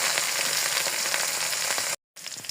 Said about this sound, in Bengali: রসুন ভাজা ভাজা হয়ে আসলে এখন দিয়ে দেবো মশলা।